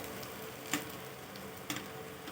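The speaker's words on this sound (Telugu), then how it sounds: "మీడియంలో కానీ లో ఫ్లేమ్లో పెట్టుకొని ఇట్లా బాగా వేయించుకుందాము" Small urad dal bondas fry in oil on a medium flame with a soft, steady hiss, broken by two brief sharper crackles.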